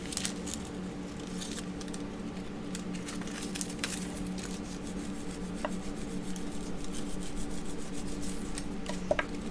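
Polymer clay is burnished by hand, with quiet, close rubbing and scraping strokes that come in irregular bursts against a soft background hum.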